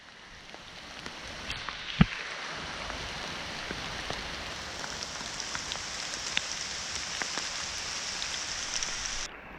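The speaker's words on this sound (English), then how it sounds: "it was driving rain and it was cold and it was very dark at midday" Heavy, cold driving rain pours steadily on an abandoned, overgrown jungle park, a dense hiss filled with scattered sharp drips and patters, one louder knock near the start, no talking.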